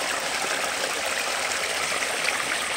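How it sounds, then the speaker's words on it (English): Water steadily pouring and trickling from an upper garden pond down into a lower pond, a continuous close splashing wash with no pauses. "Add water to the top pond, it goes to the bottom and tops up the bottom pond"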